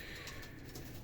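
Pigeons coo softly in a loft, low murmuring calls under a steady hiss. The sound is faint and distant, with no voices.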